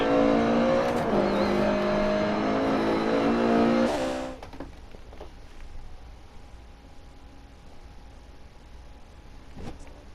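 A Lancia Evo 2 rally car in the DiRT Rally video game, running on tarmac: a loud, high-revving engine drone for about four seconds, then dropping away to a quieter idle with faint mechanical clicks.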